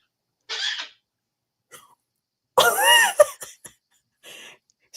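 A pet bird gives short cough-like bursts imitating its owner's cough: one brief cough, a faint second, then a longer raspy wheezing cough and a trailing rasp, close and clear with quiet gaps between.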